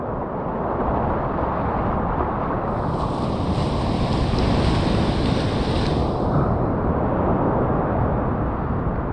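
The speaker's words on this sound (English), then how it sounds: "I would like to dive, but the sea here is very strong." Powerful surf pounds the shore at Praia da Ursa, Portugal, a steady, loud roar of breaking sea waves with wind buffeting the microphone and a brighter hissing swell in the middle.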